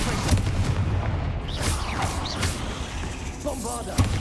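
Confringo blasting spell from Hogwarts Legacy going off in a burst of booming, crackling game explosions, with a loud thud near the end, set against continuous in-game noise and voices.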